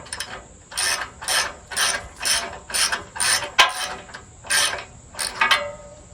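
A socket wrench with an extension and a 17 mm socket ratchets on a roof rack bolt, giving about nine rhythmic bursts of close, crisp clicking with short pauses between strokes.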